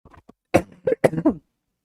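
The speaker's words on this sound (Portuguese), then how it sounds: "Quem já me acompanha sabe da minha tosse ad eternum, da minha bronquite" A short burst of several throaty coughs in quick succession, close and fairly quiet, then silence.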